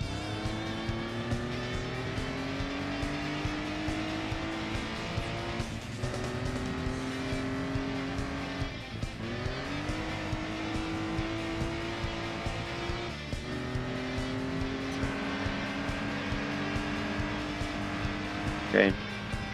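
A go-kart engine drones without a break through laps of a small track in Gran Turismo 2, its pitch rising and dipping through the shifts and corners, with a brief tire squeal near the end and a voice talking over it.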